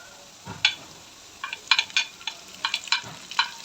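Potatoes about half fried in a pan for an egg and potato breakfast dish, heard as sparse crackles and light sizzling pops with a few soft stirring knocks, close and otherwise quiet.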